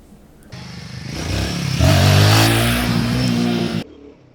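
A Royal Enfield Guerrilla 450 motorcycle with a bald rear tire, its engine revving up hard under acceleration, a loud close roar that climbs in pitch, holds, then cuts off abruptly, with wind noise underneath.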